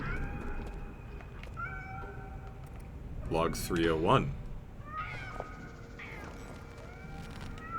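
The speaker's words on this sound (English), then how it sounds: "Are those just normal cats?" Cats in the video game Nine Sols give a few short meows, then one loud, wavering, siren-like yowl in the middle. Someone speaks briefly alongside the cries.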